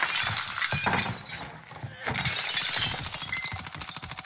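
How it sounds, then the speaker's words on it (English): Glass shatters in Call of Duty Warzone, a sudden crash of breaking panes followed by scattered clinks and rapid rattling, mixed with players talking over it. "someone broke glass"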